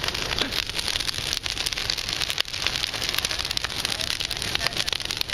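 Sparks and burning debris rain down in a dense, steady crackling patter like heavy rain on a surface, close and continuous with one brief dip, while people react nearby.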